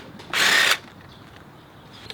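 Power tool unscrewing a bolt from the plastic fairing of a Kawasaki Ninja 250, one short loud close whir lasting about half a second, then quiet room tone.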